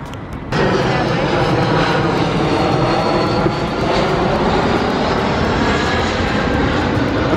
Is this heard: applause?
no